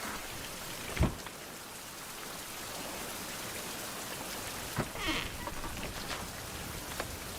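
Steady rainfall in a survival video game, Survival: Fountain of Youth, hisses softly and continuously, with a dull thud near the start and a few brief louder spatters later on.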